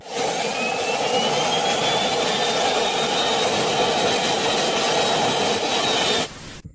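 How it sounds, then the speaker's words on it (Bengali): A motorcycle's turbine engine roars loudly and steadily without a break, a high-pitched jet-like scream over a rushing drone, then cuts off abruptly near the end. "আর এই বাইকটির সবচেয়ে ইউনিক ব্যাপার হলো এটার টারবাইন ইঞ্জিনের সাউন্ড।"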